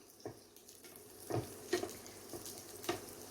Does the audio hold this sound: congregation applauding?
no